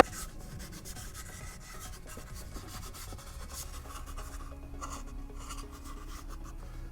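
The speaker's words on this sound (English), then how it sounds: "as far as wet sanding goes, 400 is fairly coarse" Wet sanding with 400 grit sandpaper over filler primer on a Boba Fett jet pack build gives a soft, steady rubbing scrape, quiet and unbroken.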